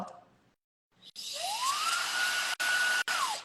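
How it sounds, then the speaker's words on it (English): A BaBylissPRO Dual Ionic high-speed hair dryer switches on and spins up to a steady whirring hum, briefly cutting out twice as it is toggled. "This is called the Dual Ionic Dryer."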